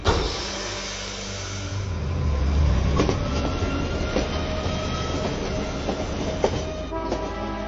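A passenger train runs, close and loud, with a steady rumble, rhythmic clickety-clack from the wheels and faint squealing over it, and no voices.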